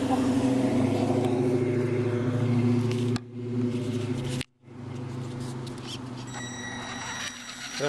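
A Traxxas Slash RC car fitted with a roll cage drives nearby, its small electric motor buzzing and whirring unevenly, cutting out briefly mid-run before resuming with clicks and rattles.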